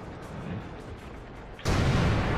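An enemy tank firing its gun in a tank battle game, a single abrupt heavy boom that cuts in after a low rumbling background and rings out loudly to the end.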